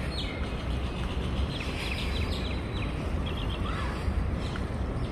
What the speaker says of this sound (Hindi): चिड़िया चहचहा रही हैं यहाँ पे